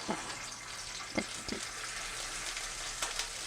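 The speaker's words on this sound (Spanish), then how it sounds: "añadiendo en un sartén 2 cucharadas o las 2 cucharadas de aceite, la cucharada de ajo y vamos a dejar hasta que se sofría bien el ajo" Garlic frying in oil in a pan makes a steady sizzle throughout, with a few soft clinks and taps of stirring on top.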